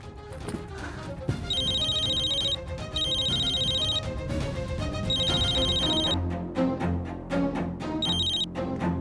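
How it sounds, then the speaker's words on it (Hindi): A telephone ringtone chimes in repeated bursts of electronic tones at a household in a Hindi TV drama. Background music plays beneath it, and the ringing stops near the end. "माँ का फोन बजा, जरूर पापा का फोन होगा।"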